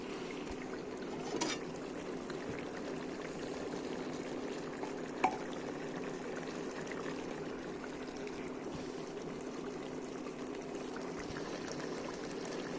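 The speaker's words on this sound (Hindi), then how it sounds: "अब इसमें मैं थोड़ा सा ये पानी ऐड करूँगी। पानी हमेशा गर्म यूज़ करना चाहिए" Hot water poured into a simmering meat and vegetable curry (salan) in a home kitchen, a steady soft trickle and stream of liquid running low under the room tone, with no talking.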